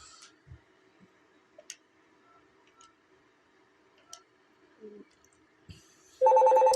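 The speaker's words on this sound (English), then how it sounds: "I'm going to simulate a call coming into this phone" A Snom D series desk phone rings with an incoming call: a loud, steady electronic ring bursts in near the end after a quiet stretch broken by a few faint ticks and clicks.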